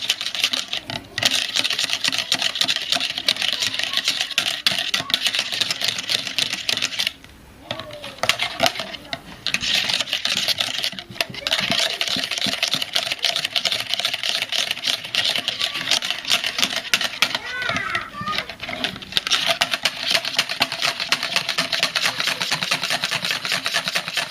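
Batter for rolled rice-vermicelli snacks beaten by hand with a whisk in a bowl until foamy, a fast continuous rattling and clicking that pauses briefly midway before resuming.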